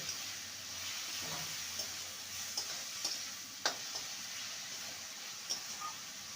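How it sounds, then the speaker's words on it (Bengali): Masoor dal being fried and stirred with spices in a pan for an egg and lentil dish gives a low, steady sizzle, with soft scraping and scattered light clicks from the spoon. "ভালো করে মশলার সাথে কষিয়ে নে"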